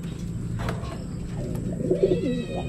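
Racing pigeons coo softly in a loft being readied for a race, a few low murmuring coos near the end over a steady background hum.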